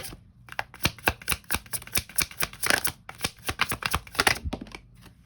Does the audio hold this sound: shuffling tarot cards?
yes